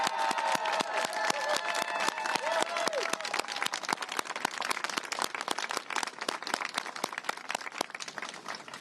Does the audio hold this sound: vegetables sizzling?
no